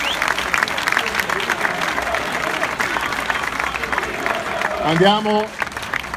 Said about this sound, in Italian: facciamogli un minuto di applauso in più